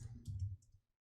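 A few computer mouse clicks on a Windows PC, close and fairly soft, clustered in the first second before falling silent; no one talks.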